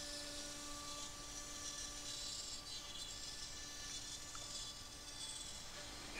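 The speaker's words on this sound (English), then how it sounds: "The small entry holes are then cut out." A milling machine cuts small entry holes in wooden beehive panels, producing a faint, steady high-pitched whine with a continuous rasping hiss of cutting.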